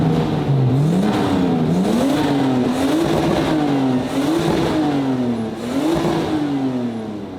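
A tuned Nissan Skyline R34 engine revving hard and loud close by, its pitch rising and falling in repeated surges over several seconds.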